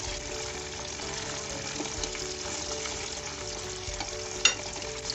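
Chicken wings fry in a covered pan with a continuous steady sizzle, joined by light scraping and a brief clatter as they are flipped partway through.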